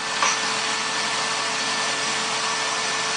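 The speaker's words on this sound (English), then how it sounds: "Okay, the Walt angle grinder." A DeWalt brushless angle grinder runs steadily, a constant loud motor whine with no change throughout.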